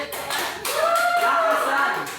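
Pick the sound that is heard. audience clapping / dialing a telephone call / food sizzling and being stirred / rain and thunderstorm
audience clapping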